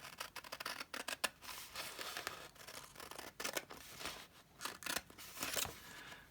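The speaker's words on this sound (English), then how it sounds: "And I'm cutting it above the folded line." Scissors cut paper for a card's front cover in short snipping strokes and longer slicing passes, faint and close, with light paper rustling between cuts and no voices.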